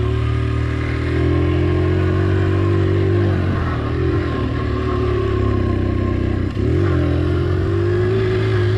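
Engine of a 1983 Honda XL100 motorcycle pulling off road and up a hill, a steady close mid-pitched drone with slight revving dips near the middle, running continuously with no talk.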